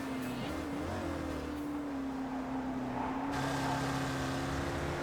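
A Spec Racer Ford race car engine drones steadily on the Belle Isle circuit in a racing video game, a continuous nearby hum that holds a fairly even pitch throughout, with no talk.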